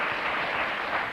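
Studio audience applause on the 1997 talk show Politically Incorrect, a steady, dense wash of clapping that holds evenly loud throughout the brief stretch.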